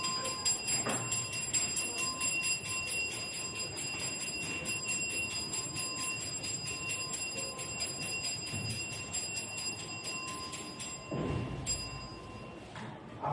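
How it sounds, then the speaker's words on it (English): A bell rings and keeps a sustained tone, with a couple of louder struck accents against a steady noisy background. "Okay, listen to the sound of the bell."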